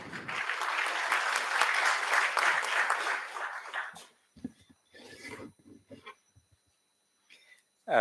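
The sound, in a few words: audience applause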